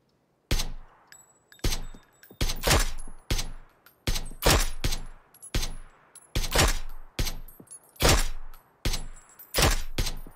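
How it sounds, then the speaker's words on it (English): AK-47 fire in a video game comes as a series of sharp, loud single shots and short bursts, about a dozen cracks spaced irregularly with brief echoing tails and no talk. "I'm shooting an AK-47 at him."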